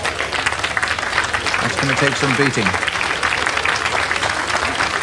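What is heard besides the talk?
crowd applauding a strongman's rope pull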